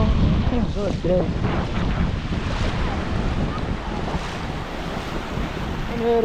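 Sea waves surging onto a rocky shore, a loud continuous wash roughened by wind buffeting the microphone, with a voice faintly audible at moments.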